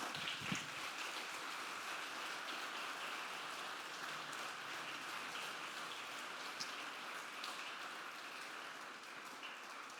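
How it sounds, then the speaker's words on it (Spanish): A church congregation applauds at a Sunday morning service, a steady, even patter of many hands clapping at a moderate distance, continuous and unbroken with no voices standing out. "Gloria a Dios por ese aplauso."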